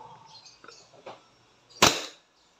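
A WE Glock 17 Gen 5 airsoft pistol fires a single sharp, loud crack near the end, after a stretch of quiet handling noise.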